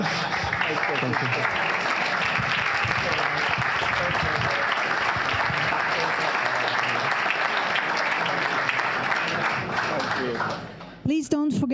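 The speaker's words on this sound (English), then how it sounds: "This clapping was enough." An audience claps at the close of a session of an education conference presentation. The clapping is loud and continuous for about ten seconds, then stops abruptly as a voice briefly speaks.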